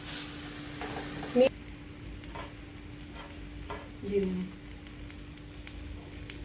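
Mustard seeds and asafoetida sizzle in hot oil for a chutney tempering. The sizzle is steady and close, with a few soft knocks and stirring sounds and a low background hum.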